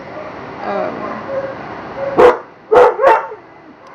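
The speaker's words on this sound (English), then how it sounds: "There could also be barking dogs around because my dog is going crazy right now." A dog barks three times in quick succession, loud and close, after a stretch of quieter indoor sound with a voice murmuring.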